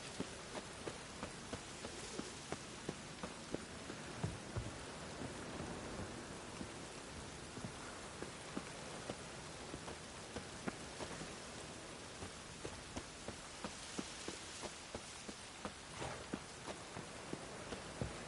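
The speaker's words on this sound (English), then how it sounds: "Witches have conjured rain." Witch-conjured rain from The Witcher 3 pours steadily for a long stretch, a full hissing downpour with frequent sharp drip and splash ticks and a soft distant rumble beneath, no speech.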